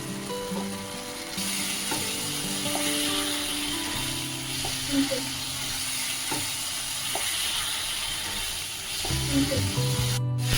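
Taro stolons sautéing with grated coconut and a splash of tamarind water in a pan, a steady low sizzle under an even hiss with occasional spoon scrapes, continuous and close.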